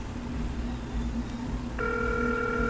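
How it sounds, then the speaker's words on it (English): A telephone rings on an outgoing call, a steady electronic ringback tone starting partway through, heard over a constant background hum with no talking. "Phone's ringing."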